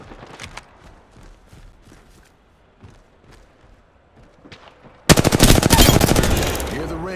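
Automatic weapon fire in the battle royale game Apex Legends, a loud sustained burst of rapid shots erupting near the end after quieter footsteps and thumps.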